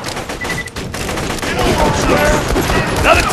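Rapid automatic turret fire in the shooter game Borderlands 2 rattles on in sustained bursts, loud and close, with a voice speaking over the shooting.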